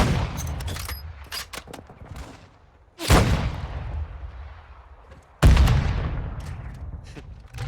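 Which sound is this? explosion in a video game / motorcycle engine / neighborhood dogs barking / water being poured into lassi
explosion in a video game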